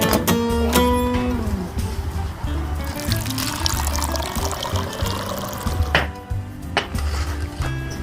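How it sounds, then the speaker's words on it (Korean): Water poured into a pan to cook jjajang tteokbokki, a steady splashing pour running through most of the moment, with a child's toy-like tones and background chatter around it. "물 넣어볼게요."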